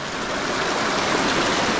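Waterfall water pours steadily, a dense, even rush of flowing water close by, heard alone with no voices, at a spot where a caught fish is being released.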